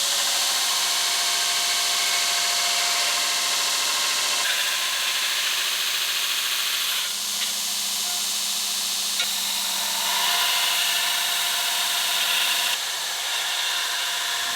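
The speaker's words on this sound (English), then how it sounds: "Back to the belt sander." Belt sander grinding forge-welded steel with a 15N20 core, a loud continuous abrasive whir and rasp that shifts in pitch and pressure as the blade is worked, with brief changes in contact throughout.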